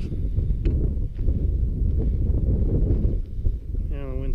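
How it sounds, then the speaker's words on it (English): Wind blows outdoors on a chilly day near a cabin at Fremont Point, a steady low rumble of gusts buffeting the microphone for several seconds, with a short whistling tone near the end. "the wind's starting to pick up again"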